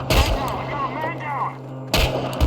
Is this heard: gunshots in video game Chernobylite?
yes